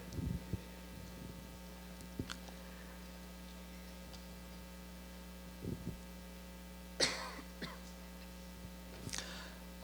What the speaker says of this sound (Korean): 지금 기침이 조금 심해져서